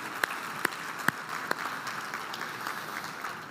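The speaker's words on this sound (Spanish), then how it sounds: "Vamos a darles un aplauso de bienvenida a ellos." A welcoming round of applause from a church audience: a broad wash of many hands clapping at a moderate distance, steady throughout, with a few sharper nearby claps standing out early on.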